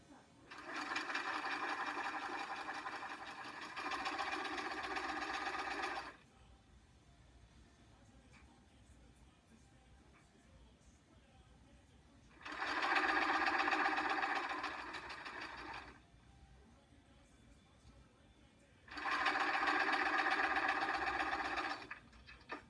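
A sewing machine stitches a quilt block seam in three separate bursts of steady, rapid mechanical whirring, with quiet pauses between them and soft talk in the background.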